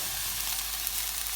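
Beans and chopped tomatoes go into a pan of frying tomato puree with onions and garlic for a chili sin carne, giving a steady, close hiss of sizzling with no pauses.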